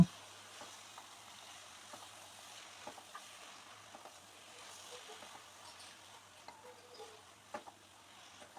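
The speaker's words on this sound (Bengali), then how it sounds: "শাকটা দেওয়ার পর মশলার সাথে ভালোভাবে মিশিয়ে নেব" Water spinach stirred into prawns and spices in a pan gives a faint, soft sizzle with scattered light taps and scrapes of stirring, quiet and steady throughout.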